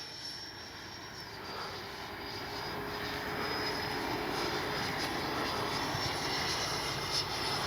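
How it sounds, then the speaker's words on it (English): A Freewing T-45 90mm RC model jet climbs and dives, its ducted-fan engine a steady, distant whine that slowly swells in loudness as the plane picks up speed. "Now we're going to go straight up and get into a hard dive, just to see how fast I can make this model move."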